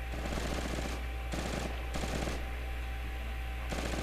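Sustained assault rifle fire in the Project Reality military shooter, dense automatic bursts rattling almost continuously with brief pauses, loud and close over a steady low battlefield rumble.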